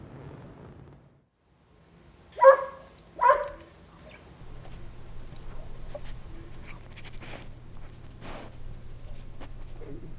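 A dog gives two short sharp barks close by, followed by quieter whimpering and snuffling over a low steady background hum.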